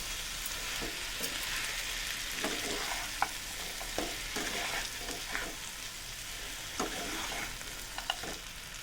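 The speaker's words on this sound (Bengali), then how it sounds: "আবারও ভালো করে মশলার সাথে কাঁকড়াগুলোকে মিশিয়ে নেব।" Crabs are stirred into spices in hot oil for a crab pickle, a soft steady sizzle with a spoon scraping and tapping the pan in irregular strokes, near and fairly quiet.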